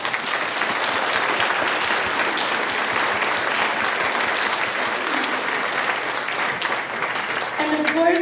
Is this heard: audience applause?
yes